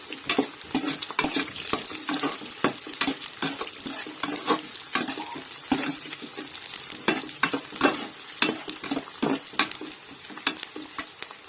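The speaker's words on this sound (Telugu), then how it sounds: "కర్రీకి సరిపడా అల్లం వెల్లుల్లిపాయ పేస్ట్ వేస్తున్నాను" Ginger garlic paste frying in a curry pan for fish curry, a steady close sizzle with frequent scraping stir strokes and utensil clinks throughout, no voices.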